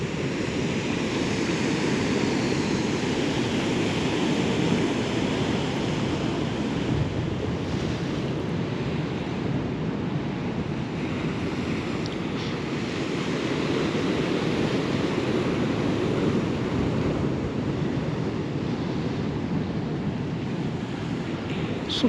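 Ocean waves roll in continuously on a beach in Wales, a dense, steady roar of surf mixed with wind buffeting the microphone, loud and close throughout with no talking.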